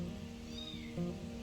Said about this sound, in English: Those kittens really want to snuggle, but I already gave them some time outside.